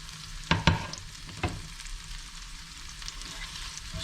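Green beans tossed into a pan for a vegan pasta primavera, a couple of sharp clatters as they land and get stirred, then an even, low frying sizzle.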